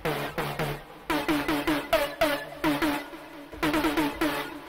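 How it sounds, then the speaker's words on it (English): A plucky, percussive synth patch from Sylenth plays a quick rhythmic run of short, bright notes, each one snapping in and decaying fast, loud and alone. "I wanted it to be like kind of percussive and have like that plucky percussive sound like this."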